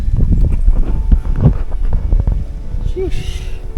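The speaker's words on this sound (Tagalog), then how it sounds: "Tas mahangin." Wind buffets the microphone on a scenic overlook during a motorcycle ride through Albay and Sorsogon, a loud, gusty low rumble throughout with faint voices and brief background sounds near the end.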